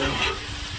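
Steady, close sizzling of Hawaiian chicken fried rice with pineapple frying in a hot pan, a brief unbroken burst with no talking.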